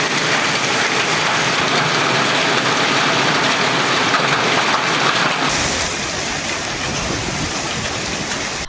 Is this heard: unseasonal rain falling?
yes